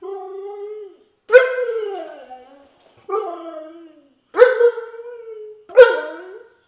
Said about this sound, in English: the very last reason, and probably number 1 for why Siberian Huskies are so cute, is because they like to talk like people and have conversations